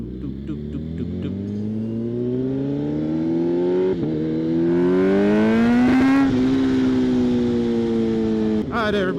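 A Kawasaki ZH2 motorcycle riding with its exhaust droning and climbing in pitch as it pulls through the revs, steady and fairly close, with brief dips between rises and wind noise underneath.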